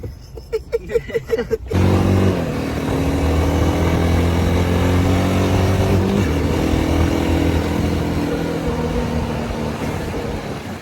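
A new Yamaha R15 motorcycle engine starts after a few clicks and settles into a loud, steady idle close by, running continuously with a faint rise and fall and no talk over it.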